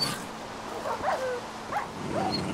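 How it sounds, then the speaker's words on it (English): Dogs fighting in the Minecraft video game, with a few short yips and whimpering calls scattered over steady game background noise, moderately loud and close. "all my dogs will attack all the other dogs."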